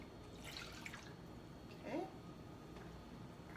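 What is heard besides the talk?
pouring balsamic vinegar into a pot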